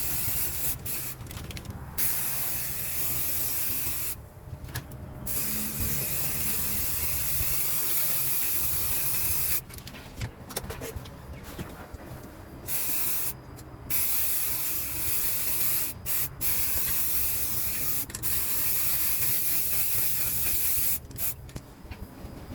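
Spray paint hisses from an aerosol can while a camper van is being refinished, in long steady bursts broken by short pauses, close and fairly loud throughout.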